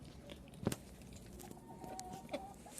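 Chickens on a farm, feeding, giving soft scattered clucks and short calls, with quiet pecking and patter nearby against a low, calm background.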